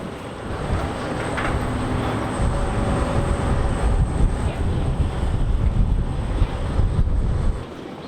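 A steady airplane engine roar and rushing wind noise fill the scene continuously, with no voices, just after the plane lands in Maui.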